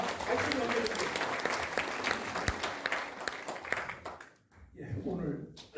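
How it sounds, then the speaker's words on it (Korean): Dense audience applause at a Korean forum on abolishing lawmakers' privileges greets a professor and civic activist. The clapping continues for about four seconds and then fades out, with a voice speaking at the end. "여러분 큰 박수 부탁드립니다."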